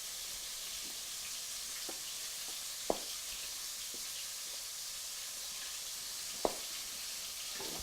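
Ground meat for an Umbrian ragù fries in a pan, a steady soft hiss with a few faint crackles and two sharper pops, fairly quiet and with no talking.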